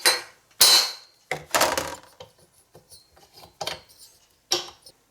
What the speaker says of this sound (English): And now just give it a good tap.